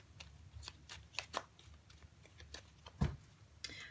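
Tarot cards shuffled by hand for a Sagittarius weekly reading: a run of soft, papery riffles and taps, close and fairly quiet, with one sharper knock near the end.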